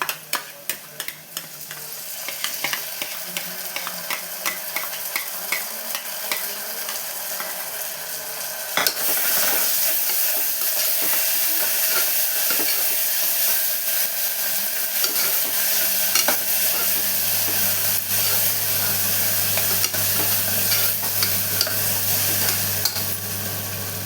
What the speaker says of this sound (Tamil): இப்போது இஞ்சி பூண்டு பேஸ்ட்டு சேர்த்து நல்லா வதக்கிக்கலாம்